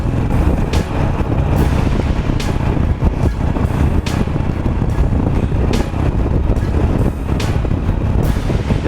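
Truck idling and creeping in dense holiday shopping traffic just ahead of a Harley-Davidson motorcycle, a steady low engine rumble with wind buffeting the microphone and periodic sharp hissing bursts throughout.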